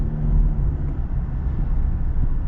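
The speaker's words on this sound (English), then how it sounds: "It's so weird to hear the noises this makes in a full-size pickup truck" Turbocharged 2.7-liter engine in a 2022 Chevy Silverado 1500 Custom pickup pulling hard, a steady loud low rumble with a faint whine, heard from inside the cab with no talking.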